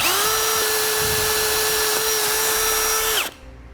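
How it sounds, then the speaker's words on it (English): A power drill whines at a steady high pitch while enlarging a pilot hole to 9/32 inch on a 2008 Honda CR-V during a base plate install, running loud and close before winding down abruptly near the end. "with the pilot hole made, we'll enlarge it out to the 9/32"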